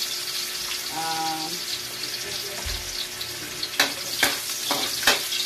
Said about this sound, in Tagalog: Igisa natin yung bawang, lagyan ng luya.